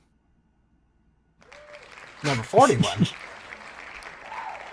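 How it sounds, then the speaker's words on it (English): Crowd applause from a video game starts suddenly after silence and continues as a steady, moderate patter of clapping, while someone speaks briefly over it. "I love the sound of the applause"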